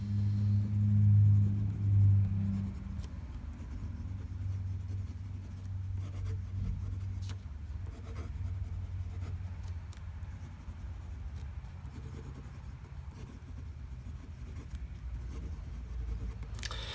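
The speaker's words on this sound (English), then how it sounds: "Let's do a quick little writing sample." A Pineider Avatar ultra resin fountain pen with a medium nib writes on paper, its faint, steady scratching continuous under a low background hum throughout.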